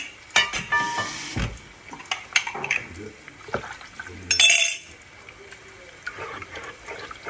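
Water hits a hot frying pan of pork neck and tomato sauce with a brief loud hiss and sizzle, amid clinking utensils and a person talking nearby.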